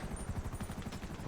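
Rapid automatic gunfire in the video game GTA Online, a quick even rattle of shots, fairly quiet and distant-sounding, over a short stretch.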